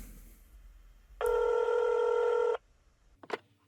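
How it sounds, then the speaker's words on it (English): A telephone keypad sends one long steady dialing tone lasting over a second, loud and clean, followed by a short clatter, with faint background noise before it. "I'm already dialing."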